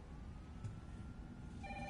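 A telephone rings in the Resident Evil 3 video game, a faint steady trilling bell repeating quietly through the whole stretch with no talk over it.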